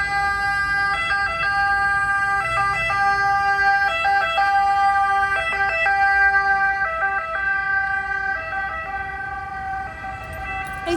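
A two-tone emergency vehicle siren wails steadily on a Rome street, its alternating pitches rising and falling in a repeating pattern over traffic noise, loud and close throughout.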